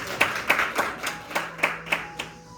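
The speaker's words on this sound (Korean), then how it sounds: "다시 한번 감사의 박수 올리겠습니다." Church congregation clapping in thanks, a sparse set of about eight distinct claps in a slow rhythm, moderately quiet in a reverberant hall.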